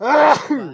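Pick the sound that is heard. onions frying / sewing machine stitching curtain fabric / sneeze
sneeze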